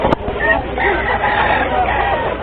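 A rooster crows loudly and close, a drawn-out call over clucking chickens and crowd noise at an animal market in Bulacan.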